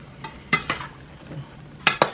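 Sliced eggplant dropped into a pot of plain unsalted water for blanching, a few separate splashes and knocks, two pairs close together, with quiet gaps between.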